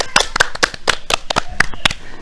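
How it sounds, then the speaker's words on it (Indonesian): A few people clap at close range during a student podcast with the electrical engineering student association head at Universitas Mataram: sharp, uneven hand claps scattered across two seconds, fairly loud, with no talk over them. "tepuk tangan dulu, tepuk tangan."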